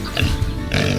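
Pigs grunting and oinking on a summer farm, several short snorting grunts close by against an outdoor pasture background.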